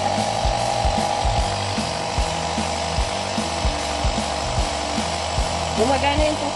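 A cheap portable air compressor runs with a loud, fast mechanical pumping rattle that continues without pause, while people talk over it.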